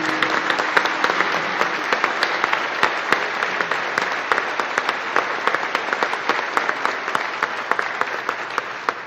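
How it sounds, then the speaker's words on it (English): A crowd gathered at an outdoor ribbon cutting gives sustained applause, a continuous wash of many hands clapping at a steady, moderately loud level that holds for the full stretch without any talk. "Let's give him one more round of applause."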